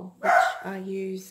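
A dog barks a single short bark close by indoors, just ahead of a voice talking.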